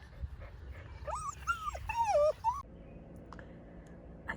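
Dogs whine and yip in high, rising and falling whimpers on an outdoor walk in a state park. The cries come in a close, fairly loud burst lasting about two seconds and then fall away to quiet ambience.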